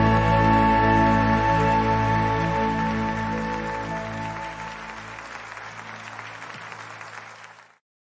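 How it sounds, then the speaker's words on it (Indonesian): A church congregation applauds in a dense, even wash of clapping over a sustained musical chord, fading gradually to silence near the end. "Mari bersama-sama kita berikan tepuk tangan yang terbaik hanya buat Allah."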